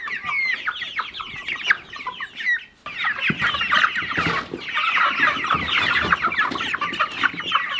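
Farm chickens cluck and squawk continuously in a loud flock nearby, with dense overlapping calls and a brief lull before the clucking resumes.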